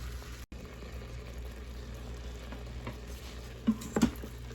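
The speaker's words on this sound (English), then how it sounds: "And now we'll let this cook, kind of brown up a little bit," Meat browning in an Instant Pot gives a steady, soft sizzle and frying crackle throughout, close by, with a few brief louder pops near the end.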